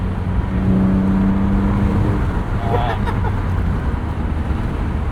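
A 1999 BMW M Roadster convertible's engine revs and accelerates hard, a steady loud drone with a rising tone early on, while people talk excitedly over it.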